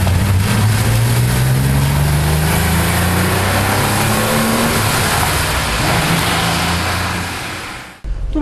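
A Porsche 911 Carrera RS tribute with a 2.7 engine of 210 hp pulls hard and close, its note climbing steadily through the revs for about eight seconds before cutting sharply at a gear change, with no voices.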